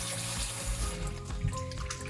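Tap water runs steadily into a kitchen sink while raw chicken is washed under it with vinegar, a continuous close splashing rush with small shifts as the meat is handled, no voices.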